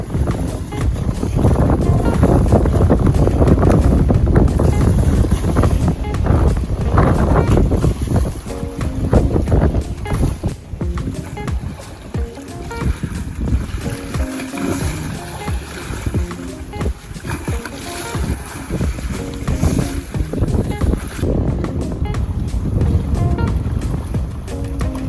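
A boat travels through strong wind, with heavy wind buffeting and rushing air that stays loud and close throughout, roughest in the first several seconds.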